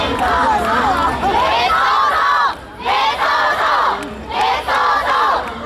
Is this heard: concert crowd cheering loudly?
yes